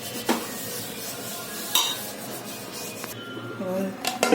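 Paper being rubbed across an oiled pan, soft continuous scraping and wiping with a few sharp clinks of metal, close and fairly quiet.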